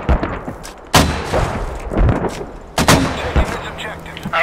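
Mortar barrage in the video game Squad firing explosive shells, heard as several loud, sharp blasts spaced irregularly over a rumbling battlefield, with scattered smaller shots between them.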